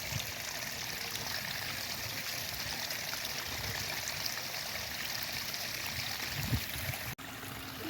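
Water trickles and splashes steadily down a small garden pond waterfall, a continuous close, even rush with no voices over it.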